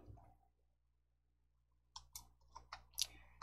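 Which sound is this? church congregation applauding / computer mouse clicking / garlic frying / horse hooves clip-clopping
computer mouse clicking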